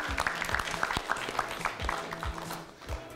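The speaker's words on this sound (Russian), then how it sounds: "Два правильных ответа, мы аплодируем тебе, Айлана." Audience applause at a quiz show, a short burst of scattered clapping that stays fairly quiet, without talk over it.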